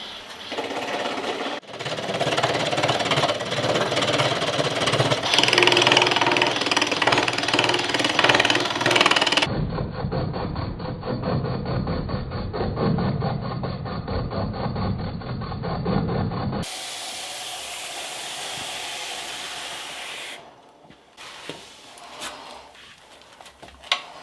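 Foot-powered lathe turning wooden dowels, a steady, loud rubbing and rumbling of wood against the cutting tool that shifts in tone as sections change, then settles into quieter intermittent scraping near the end.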